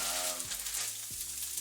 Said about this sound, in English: You can already hear that these are charring up nicely.